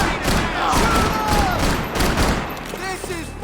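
Gunfire in Max Payne 3 during a graveyard firefight, with rapid overlapping shots and bursts mixed with shouting voices and game effects, loud and busy throughout.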